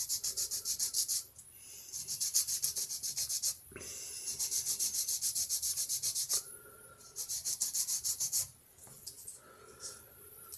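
Fine-grit file and sanding strokes rasp steadily across the plastic roof contours of a small TJet slot car body being chopped from a buggy into a coupe, close and repetitive in bursts with short pauses, no voices.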